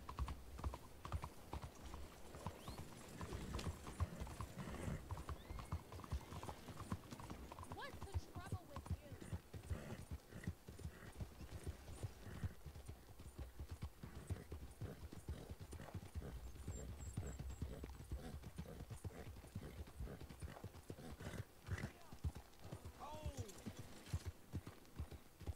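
Horse hooves clip-clop steadily in Red Dead Redemption 2, a soft, continuous rhythmic plodding held low in the mix, with someone talking over it at times and a brief whinny.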